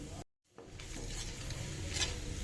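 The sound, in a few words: seasoning seeds sizzling in hot groundnut oil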